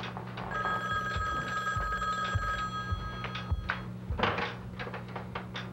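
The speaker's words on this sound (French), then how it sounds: "Le soir du 5 août 86, M. Gonneville reçoit un appel d'un individu qui doit se rendre chez les Legault de toute urgence." An old landline telephone bell rings in a repeated electric trill, with a clear steady tone sounding through the first half, then bursts of clattering bell strikes and knocks, close and fairly loud, with no talk.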